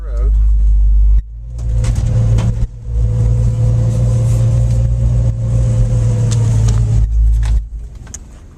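A 1965 Ford Mustang Fastback rolls down the road, its engine a loud, steady low rumble that cuts out briefly twice before a short drop-off at the end.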